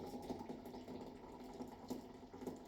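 Boiling water from a kettle is poured into a cup with a spoon in it for tea, a steady soft trickling and splashing heard close up with no talking.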